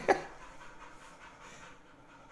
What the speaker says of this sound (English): just keep hearing the dog breathing like it was real life